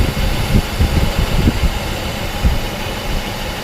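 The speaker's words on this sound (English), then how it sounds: "what's going on here with uneven engine running" A Mercedes car engine idles nearby with a rough, lumpy rhythm, the low pulses surging and dipping unevenly; no talking.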